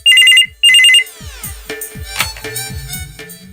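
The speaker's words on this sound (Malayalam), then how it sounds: "ഫോൺ അടിക്കുന്നുണ്ടല്ലോ." A telephone rings in a household scene with two loud electronic ring bursts at the start, followed by a run of irregular knocking and clattering sounds.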